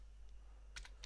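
A few crisp keystrokes typed on a computer keyboard while editing a Python script in a terminal, clustered near the end after a quiet pause, close and fairly faint, with no talking.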